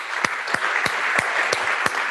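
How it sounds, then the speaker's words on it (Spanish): A few people clap in a steady, slow rhythm, about six distinct claps spread evenly, close and moderately loud, as an audience at a Basque cuisine talk applauds two chefs. "os pediría primero un fuerte aplauso para los dos"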